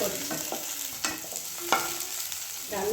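Cumin, green chilli and tomatoes fry in a home kitchen pan, a soft steady sizzle broken by a few sharp stirring scrapes and clinks, close and alone.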